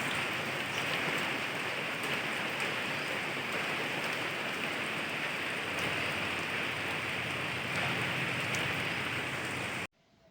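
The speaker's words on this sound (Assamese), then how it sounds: "বৰষুণ যাক ক্ৰমান্বয়ে ডাঙৰ হৈ আহিছে" Steady rain falling on surfaces, a dense continuous hiss with scattered drop patter throughout, cutting off abruptly at the very end.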